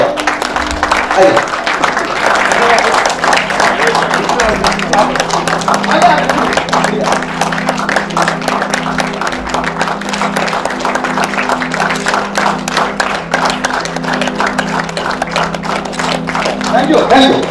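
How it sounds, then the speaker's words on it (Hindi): A lecture audience at a hotel, gathered for a personality development talk, claps loudly and continuously, a dense crackle of many hands that runs throughout under someone speaking over a microphone. "तालियां जोरदार।"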